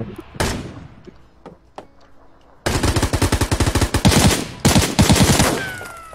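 Rapid bursts of automatic gunfire in the video game PUBG, loud and sustained in two long strings after a few scattered single shots.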